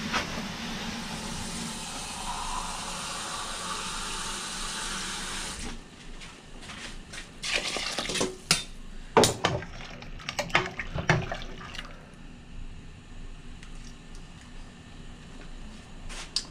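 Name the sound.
water pouring into cooking pot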